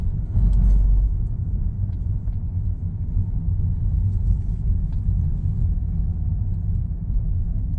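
A Mercedes-Benz W204 with a seven-speed gearbox rolls along at steady speed, giving a low, even cabin rumble with a slight swell near the start and no clear rev change, heard from inside without talk.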